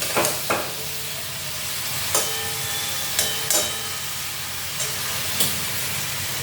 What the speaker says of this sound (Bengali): একটু জল দিয়ে কষিয়ে নিচ্ছি।